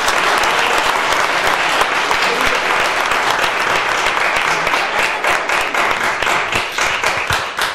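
Loud, dense applause from an audience honoring members of a cultural association at a Christmas event, sustained throughout and thinning slightly toward the end, with a voice briefly underneath.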